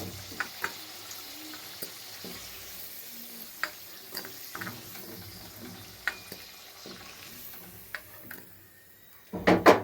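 Cauliflower florets frying in hot oil for a Bengali cauliflower roast, a soft steady sizzle scattered with sharp crackles and pops, ending in a louder burst of clattering spatter.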